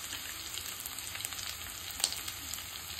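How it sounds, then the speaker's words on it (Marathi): Ginger garlic paste sautéing in oil in a pan for egg curry, giving a steady, soft sizzle with small crackles and one brief louder pop, with no talking. "आलं लसूण पेस्ट परतलेले आहे।"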